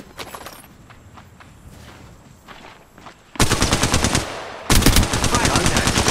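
Quiet footsteps and movement give way to two loud, rapid bursts of automatic fire in Apex Legends Mobile, close and dense, the second starting after a short gap.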